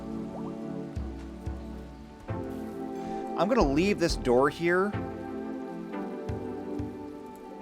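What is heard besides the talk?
rain falling in a video game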